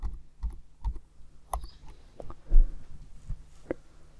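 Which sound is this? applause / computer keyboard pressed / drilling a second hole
computer keyboard pressed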